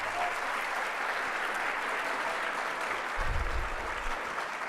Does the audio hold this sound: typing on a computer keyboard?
no